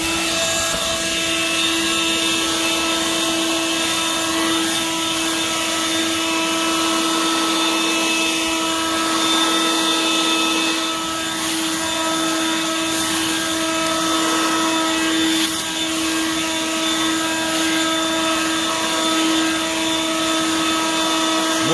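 A Litheli 40V brushless leaf blower set to high turbo, rated 480 CFM, roars steadily at close range with a loud whirring drone and a high tonal whine, clearing leaves outdoors with no talking.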